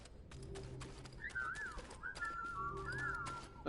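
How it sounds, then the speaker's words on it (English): Bird calls in the video game Tails of Iron II, a few short cooing and warbling phrases over soft game ambience, with a sharp chirp at the end. "Some bird."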